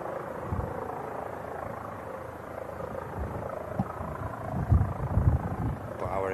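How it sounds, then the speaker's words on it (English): A police helicopter hovers over the southern end of Manchester Airport's airfield, heard as a distant, steady low rumble with a soft pulsing throb. Several louder low bumps rise toward the end. "Police heli, as you may be able to hear in the audio."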